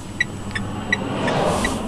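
A Peugeot iOn electric car pulls away and drives up the road, giving a low, steady hum that builds gently toward the end, with a few faint chirps overhead.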